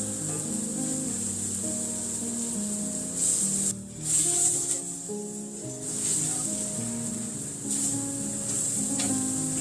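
Minced garlic sizzling in a pan over medium to medium-low heat, a steady close hiss that swells and dips slightly as it cooks, with no talking.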